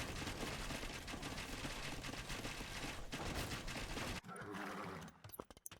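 Massed archers firing rapidly in an Age of Empires-style strategy game, a dense continuous rattle of volleys with horse sounds mixed in, loud throughout before thinning into scattered sharp hits near the end.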